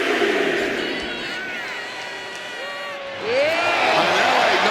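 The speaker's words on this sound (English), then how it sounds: "And LA Knight is firing up the crowd here." Arena crowd in the WWE 2K26 wrestling game roaring and cheering as LA Knight fires them up, a steady dense wash of many voices that dips briefly and then swells back louder, with shouts and whoops on top.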